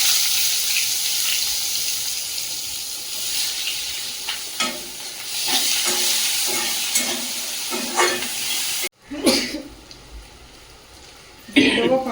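Onion and garlic fry in a new wok with dried red chillies in the oil, giving a continuous close sizzle with scattered clinks. The sizzle breaks off briefly near the end, then flares loudly again.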